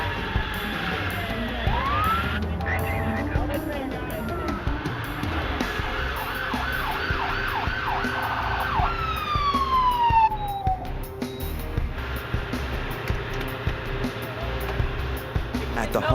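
A wailing ambulance siren sweeps up and down, fairly close, over rumbling traffic and background commotion, with a few rising and falling yelps, arriving at a hospital.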